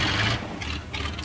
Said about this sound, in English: I'll press Control E for engine to start the engine